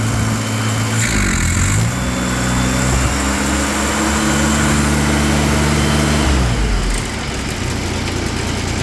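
A John Deere 322 engine runs close by with a steady hum that rises in pitch as the throttle is bumped at the carburetor, holds there, then drops back toward idle.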